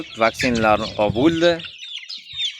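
Large black chicks for sale in Andijan, clucking and cheeping close by in short bursts while someone talks over them.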